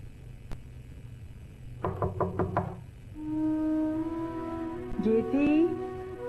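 A series of about five quick, firm knocks lands on a door, followed by a sustained tonal drone with rising musical notes.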